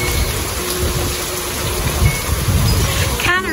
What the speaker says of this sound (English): It is doing some raining now, I'm telling you. It's blowing. We got a thunderstorm.